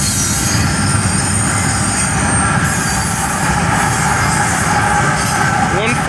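A westbound CSX container freight train with two mid-train helper locomotives rolls past close by, a loud, steady rumble of wheels with metallic squeal and rattling, continuous throughout.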